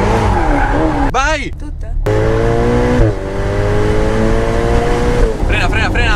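A Ferrari sports car revs and accelerates hard, its engine note climbing through rising pitches between shifts, loud and close, with excited voices calling out over it.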